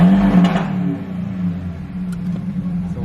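A car at a car meet gives a loud, close engine rev, the deep roar swelling at the start then settling into a throaty, rumbling idle.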